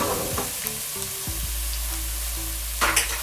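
Garlic and ginger stir-fry for chow mein, giving a steady close-up hiss of oil sizzling with occasional clinks and scrapes of stirring and a low hum underneath. No one talks.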